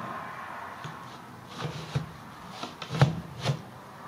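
A wooden French cleat picture hanger sliding into place against its wall-mounted partner, soft scraping wood rubs followed by a few light knocks as the cleats seat together, quiet and close.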